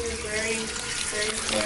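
Steady rushing of water from a tap into a sink in a Mexico City apartment, a continuous close hiss and splash.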